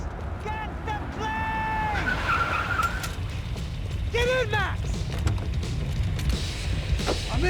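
Tires skid and squeal from a car in the action game Max Payne 3, with sliding screeches rising and falling over a steady engine roar and background game noise, and a couple of pitched squeals standing out.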